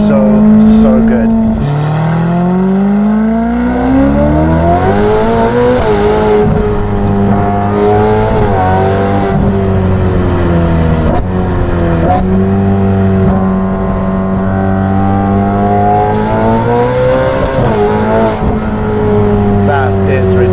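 Ferrari F8 Tributo with a Novitec exhaust, its engine loud and close, revving and rising and falling in pitch throughout, with a steady harmonic roar under the changes.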